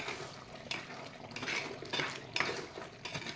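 A spoon clinks and scrapes against a metal pot while chicken gatti kulambu is stirred, a few close, bright utensil knocks over a soft bubbling background, with no one speaking.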